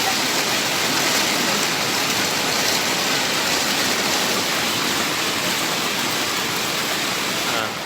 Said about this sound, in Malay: Akibatnya meluap air sungai Alui Merah hingga banjir mencapai 1 meter lebih.